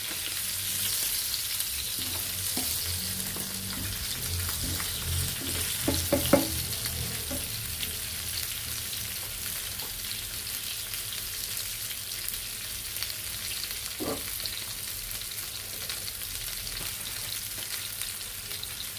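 Sardines frying in a hot pan, a steady hissing sizzle with faint crackles and a couple of brief utensil taps, no voices.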